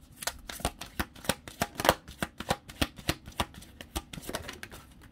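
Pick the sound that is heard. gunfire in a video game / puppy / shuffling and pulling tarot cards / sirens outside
shuffling and pulling tarot cards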